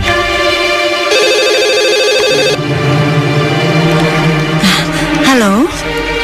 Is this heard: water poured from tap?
no